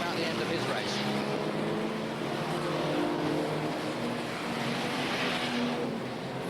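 Old banger racing cars at Ipswich in 1978–85 roar around the track in a steady, continuous engine drone, a pack passing at some distance beneath running race commentary.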